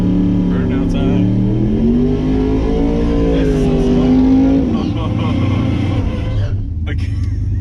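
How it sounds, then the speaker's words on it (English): A Dodge Dakota RT truck on Hoosier slicks does a burnout at a drag strip, a loud engine revving up and holding high with the pitch rising and falling, while people talk nearby. "Burnout time."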